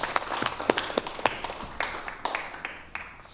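Scattered claps from a small audience at a cannabis industry expo panel, sparse and uneven bursts rather than a full ovation, fairly faint and brief.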